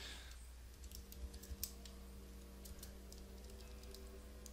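Faint, quick keystrokes on a computer keyboard patter irregularly against a low steady hum, with no voices.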